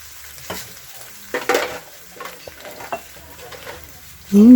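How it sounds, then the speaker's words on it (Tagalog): Meat with seasoning browns in a pan for kangkong bopis, giving a soft, intermittent sizzle with stirring scrapes and a louder burst of frying at the end. "Ilagay ko muna. Maging brown siya."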